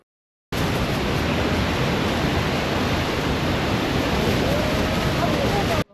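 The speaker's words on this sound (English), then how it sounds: "The Horseshoe Falls hit with a force that left us speechless" Horseshoe Falls at Niagara pouring down in a dense, continuous roaring rush of water, loud and close, with a wind-buffeted hiss blanketing the whole stretch after a brief silent start.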